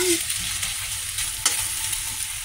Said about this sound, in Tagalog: Ayan, haluin natin. Ayan, nagba-brown-brown na siya.